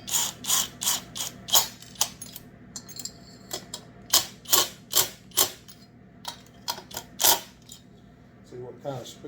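Ratcheting clicks from a wrench snugging down the cylinder and gasket on a Holzfforma 288 chainsaw, a run of short sharp bursts in uneven rhythm, close and fairly loud over a low steady hum.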